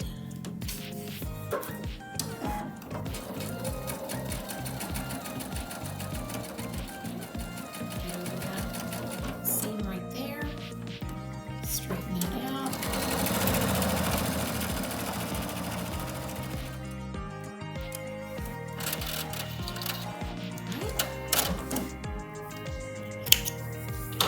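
A sewing machine stitches quilt pieces together in long close bursts of rapid mechanical chatter, with short pauses between runs and some handling clicks.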